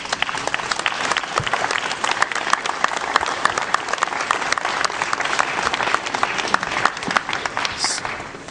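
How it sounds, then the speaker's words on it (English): Sustained, dense applause from a large audience at a newspaper awards ceremony fills the whole stretch, steady and close, with no voices rising above it. "Please let's put our hands together to welcome them all to this."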